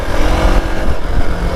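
A Hero Xpulse 200 4V motorcycle engine revs in a short, steady burst, its low, rough rumble pulsing close and loud with no one speaking.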